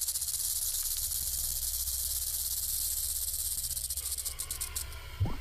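A rattlesnake shakes its tail rattle in a steady, dry, high buzzing whir that runs continuously at close range, with a faint low hum beneath and no voices.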